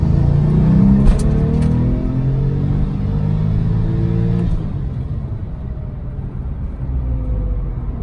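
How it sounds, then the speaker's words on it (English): A Porsche 997 Turbo engine revs through a Euro exhaust pipe with a deep rumble and rising, falling pitch, steady and loud from inside the car. "the Euro pipe sounds good. It's a very nice sounding exhaust."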